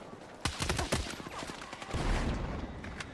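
A new assault rifle in Battlefield 6 fires in quick bursts, sharp close cracks in clusters with brief gaps and some more distant shots, and a voice talks faintly underneath.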